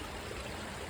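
Steady broadband rush of a creek flowing, close and continuous, with no speech, at a gold prospecting stream.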